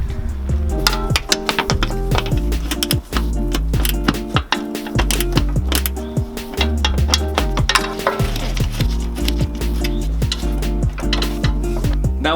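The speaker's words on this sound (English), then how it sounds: "So we'll use a swivel head ratcheting wrench to remove it." Swivel head ratcheting wrench working a bolt on a Toyota Tacoma, a fast continuous run of sharp metallic clicks close up, with a few brief pauses, and no voices.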